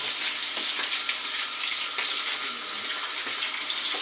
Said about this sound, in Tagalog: Piniprito niya muna yung tilapia at sa kanya ilalagay dito sa gata.